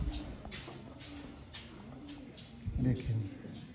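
Sialkoti pigeons of a Sheikh strain give soft, low cooing close by, one clear coo rising near the end, while someone talks over the birds.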